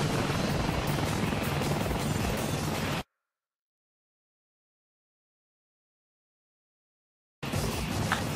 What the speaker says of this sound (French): hélico ennemi en approche de votre position